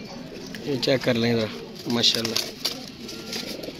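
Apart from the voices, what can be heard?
pigeon cooing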